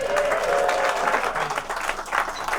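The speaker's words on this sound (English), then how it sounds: "Please give yourselves a round of applause." A wedding crowd applauding, a dense wash of clapping that stays loud throughout, with a few cheers and voices mixed in.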